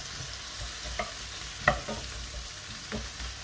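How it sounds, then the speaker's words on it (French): Onions searing over high heat in oil for ratatouille, a soft steady sizzle broken by several scraping stirs and one sharp utensil knock, no speech. "on les fait saisir à feu vif. Évidemment en remuant."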